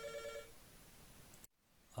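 A telephone rings with a faint repeating electronic bell tone at the start, fading into quiet room noise, then a brief drop to silence and a sudden louder burst at the end.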